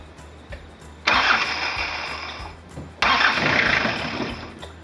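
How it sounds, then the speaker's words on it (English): Toyota Hilux 5L diesel engine cranked over by the starter in two quick bursts, each about two seconds of loud, steady whirring churn separated by a short pause, with no talking. "just turn the engine over really quickly and see if we can get that to line up about there"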